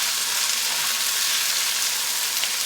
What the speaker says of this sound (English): I can hear the increasing temperature of the potatoes,